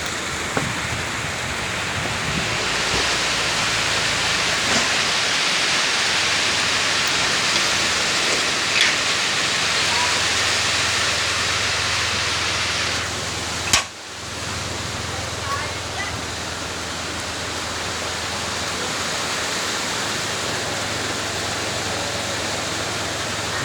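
Heavy rain falls steadily, a dense, loud, continuous hiss that fills the whole stretch, with a brief dip partway through.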